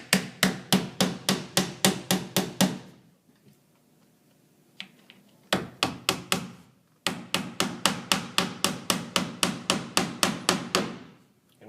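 A hammer drives 6-penny finish nails into window casing trim in bursts of sharp, evenly spaced taps, about nine blows at a time with short pauses between runs, loud and close with no talking.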